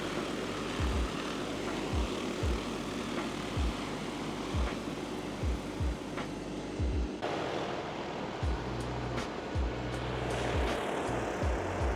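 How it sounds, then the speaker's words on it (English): A DJI P150 Max agricultural drone flies past with a steady droning rotor buzz, fairly loud and continuous, over rhythmic low thumps. "this P150 Max is going so fast, this little drone cannot keep up with it at all."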